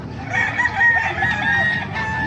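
A hatch gray gamefowl rooster at a chicken market in Bocaue, Bulacan crows loudly and close, one drawn-out call over a busy backdrop of other clucking and crowing birds.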